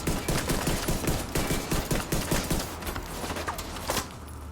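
Pistol fire in a video game, a dense run of rapid sharp shots rattling close and loud for about three seconds before tapering off into quieter background noise.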